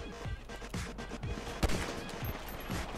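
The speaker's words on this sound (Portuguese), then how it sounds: "Tá dando tiro aqui pra baixo aqui." Rapid gunfire crackles in GTA V Online, a fast series of sharp shots with one louder blast among them over a busy, noisy game background.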